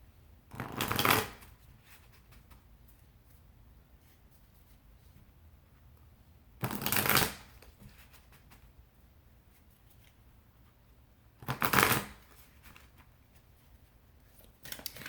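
Oracle cards are shuffled by hand in three quick, crisp riffling bursts separated by pauses of several seconds, close up and with no talking.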